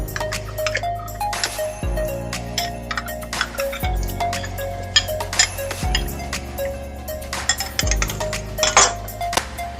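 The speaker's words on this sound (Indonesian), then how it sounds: "Kita aduk-aduk, tunggu sampai kolang-kalingnya sedikit empuk" Sugar palm fruit (kolang-kaling) being stirred in a cooking pot with salt and cloves, giving repeated close metallic clinks and scrapes of a utensil against the pot in a steady rhythm, with no talking.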